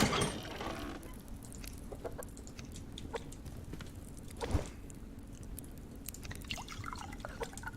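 Chickens clucking in the survival video game Subsistence, soft scattered clucks and drips over a quiet ambient hum, fairly faint.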